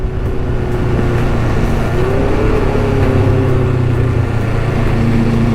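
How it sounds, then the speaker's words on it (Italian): A 650 motorcycle engine sputters and burbles at low revs while riding mountain hairpins, a steady close, loud rumble with slight uneven pulsing and wind noise. "Infatti il motore borbotta un pochettino."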